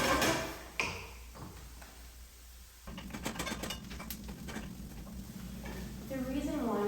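Onions frying in a pan over increased heat for Cuban vaca frita. A quiet sizzle swells louder partway through, with scattered utensil taps and scrapes against the pan and a voice entering near the end.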